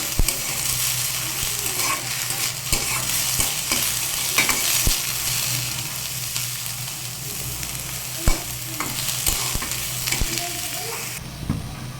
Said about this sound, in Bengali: এটাকে একটু ভাজবো সময় নিয়ে, যাতে এটা একদম সিদ্ধ হয়ে যায়।